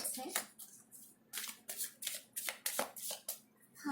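Extra tarot cards being shuffled by hand, giving quick papery riffles and flutters in a broken rhythm of short bursts, close and fairly quiet, with a voice speaking at moments.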